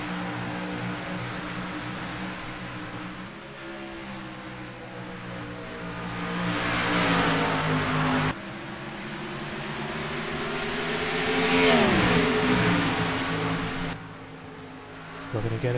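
Race cars in an ISCR National Classic Series event at Nashville roar past, engines swelling and fading with a shifting pitch as they pass, with race commentary running over the top.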